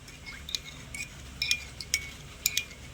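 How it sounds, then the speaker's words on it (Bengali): A metal spoon clinks and taps against a bowl while stirring pan-chewing lime into milk, with a handful of light, irregular chinks over a faint background. "চুনটা দিয়ে একটু ভালো করে মিশিয়ে নিতে হবে"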